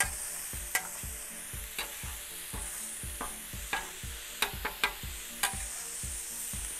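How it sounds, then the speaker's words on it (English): Cheesesteak meat and vegetables with Blackstone cheesesteak seasoning sizzling on a Blackstone griddle at a tailgate, a constant hiss broken by regular rhythmic scraping strokes of a spatula, close and clear, with no talk. "That sizzle, nothing like it."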